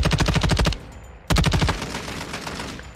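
A turret fires in Warzone 2 with a rapid, loud burst of machine-gun fire, then a short pause, then a second sustained burst that fades into echoing reverberation.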